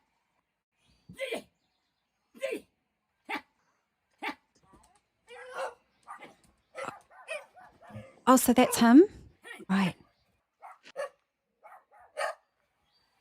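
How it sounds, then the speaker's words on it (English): Several dogs bark in a played video, giving a series of short, sharp barks and yips spaced irregularly, with a louder burst near the middle. A person speaks a few words over the barking. "but also his dogs are barking with him."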